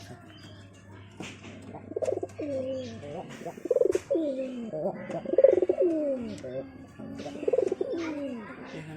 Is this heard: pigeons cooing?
yes